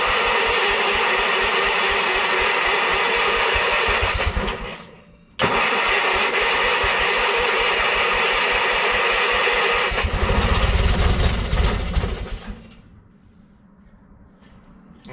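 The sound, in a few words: Bolens QT16 lawn tractor engine starting and running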